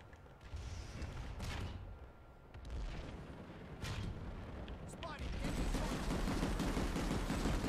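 Gunfire in the Planetside 2 video game aimed at an enemy Sunder vehicle: rapid bursts of shots and booms, louder and denser toward the end, under faint voices.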